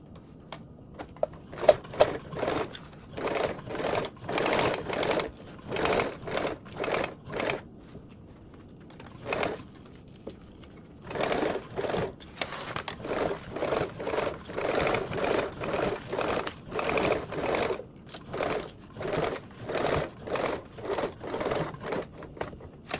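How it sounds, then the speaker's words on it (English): Sewing machine basting an elastic pocket's raw edge and gathers at a 1/8 seam allowance on a Cascade duffle bag, running in repeated short rapid bursts separated by brief pauses, close and clear with no talk. "baste down your raw edge and then along the gathers, basting with a 1/8 seam allowance"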